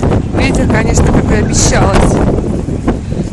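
Strong gusting wind at the North Sea beach buffets the microphone in a loud, constant roar, with rough sea and a voice speaking underneath.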